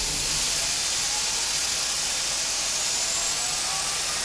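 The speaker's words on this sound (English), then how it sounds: "Right, starting engine number 4, we'll use system 1." Jet engine number four of a Boeing 747-200 spooling up during a start in the X-Plane 12 flight simulator, a steady loud roar and hiss with no one talking.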